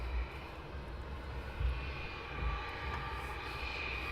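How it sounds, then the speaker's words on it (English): A business jet taxis at Luton Airport in the early morning, heard as a faint, steady distant engine hum with a constant tone and no other sounds standing out. "we have our first Bizjet of the day, taxiing down as well"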